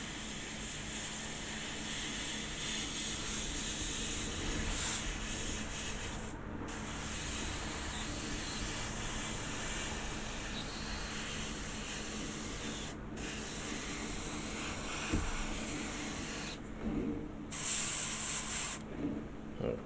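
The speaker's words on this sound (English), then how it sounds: "this airbrush is knackered. It's definitely not doing what I tell it to do." A hobby airbrush hisses paint onto a Star Trek Voyager scale model in long, steady bursts, broken by a few short pauses, close and fairly quiet.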